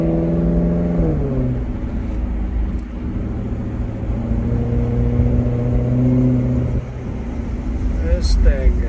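A 2014 Maserati GranCabrio MC V8 engine revs up from a low rumble, settles into a steady, throaty drone, then climbs again, close and loud, with brief background sounds near the end.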